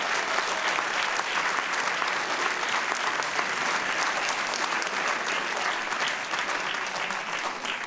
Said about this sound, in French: vous pouvez nous applaudir.